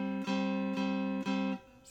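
Guitar double stop on the 4th and 3rd strings, three quiet, clean strums of two notes together, evenly spaced and each ringing out, with no talking.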